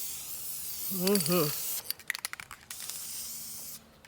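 Aerosol spray paint coats a plastic garden decoration in several quick, close hissing bursts, right after a brief voice.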